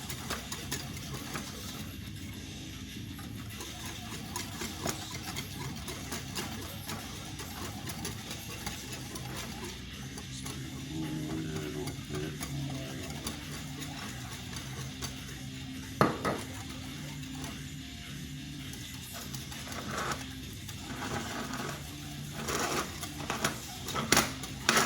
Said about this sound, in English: you do need to stir a bit vigorously.